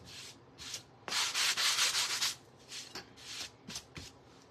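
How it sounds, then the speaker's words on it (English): Sandpaper rubbing along the edge of a large wooden pizza board, a run of short scratchy strokes with a longer sustained burst in the middle, close and fairly loud, no voices. "You can see I kind of sanded the edge there."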